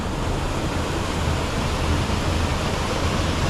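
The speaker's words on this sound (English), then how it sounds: "so this is the bottom of the waterfall" Waterfall at the bottom of a gorge on the River Cur, a broad steady roar of falling water that stays constant and loud throughout, with no voices.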